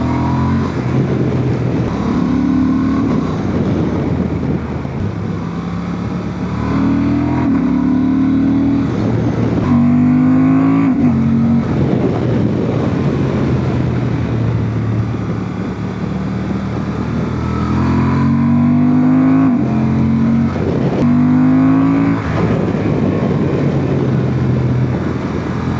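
A 2026 Honda Transalp 750 with E-Clutch revs hard, its engine note climbing through the gears in repeated rising sweeps with quick dips at each upshift, loud and close throughout with no speech.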